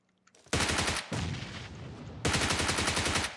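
Rapid bursts of automatic gunfire in the mobile battle royale game PUBG Mobile, a long loud volley, a short pause, then another sustained burst, with no voices.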